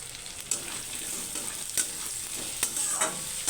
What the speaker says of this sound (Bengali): দু মিনিট আলু ভাজার পর আমি এর মধ্যে কেটে রাখা পেঁয়াজগুলো দিয়ে আর একটু কিছুক্ষণ ভেজে নেব